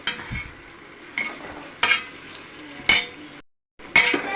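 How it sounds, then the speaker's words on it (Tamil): Sliced large onions sautéing in a pot for wedding-anniversary chicken biryani, with a soft steady sizzle broken by a few louder scrapes and stirs of a spoon, close up and without talk, briefly cutting to silence near the end. "வெங்காயம் போட்டு வதங்கிக்கிட்டு இருக்குது"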